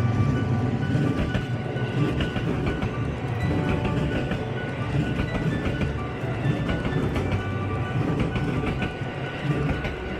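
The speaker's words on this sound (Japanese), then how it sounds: "タイミングよく関空からの特急はるかが新大阪に向けて西梅田一番踏切を通過しました" A JR Haruka limited express train rumbles past close by at a level crossing in Osaka, a continuous loud roar with rhythmic clatter of wheels over the rails.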